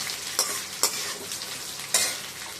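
Green chilies and tomatoes sautéing in a pan for Andhra-style chutney, with a steady soft sizzle and three sharp scrapes of a stirring spoon spaced through it.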